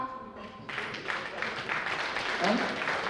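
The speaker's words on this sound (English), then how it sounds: "Give him a round of applause, Chief Okpara." Guests at a scholarship fundraising gala applaud as Chief Okpara is welcomed, scattered clapping swelling into a moderate round beneath an announcer's voice over the hall.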